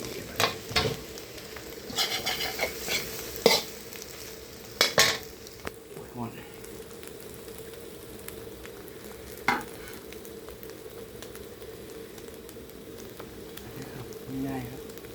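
Three beaten eggs frying as an omelette in a pan, with a low steady sizzle and scattered sharp clatters of utensils against the pan, brief speech-like sounds heard early on.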